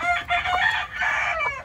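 An Asil rooster crows loudly and close, a strained, rasping call in several drawn-out segments with no talk over it.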